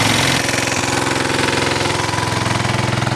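A generator engine runs steadily at close range, a loud, even mechanical drone with a rapid knocking pulse and no voices.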